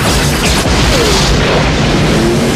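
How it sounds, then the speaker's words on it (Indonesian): Loud, dense electromagnetic gunfire from the action film Eraser, with booming blasts and crashing impacts layered over a constant roar, continuous and close throughout. "John menembaki para penjahat dengan senjata elektromagnetik"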